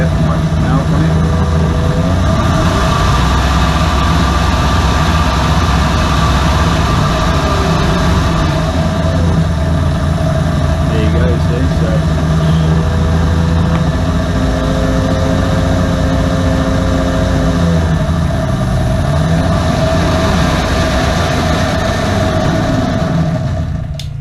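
A car alternator rebuilt as an electric motor runs steadily under a load test, giving a loud continuous hum with whining tones that slowly shift in pitch, while voices talk over it.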